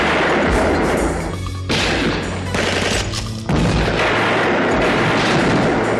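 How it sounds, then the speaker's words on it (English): Dense, continuous movie gunfire from a low-budget Leo Fong action film as the heroes raid a warehouse and shoot a biker gang; loud, booming bursts layered with crashes, no talk. "they just go to the bad guy's warehouse and they shoot everybody"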